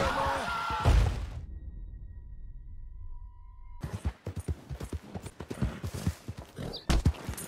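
Horse hooves clip-clopping while riding in Red Dead Redemption 2: a loud opening burst, a near-silent gap, then dense rapid irregular hoofbeats close up with bright clattering transients.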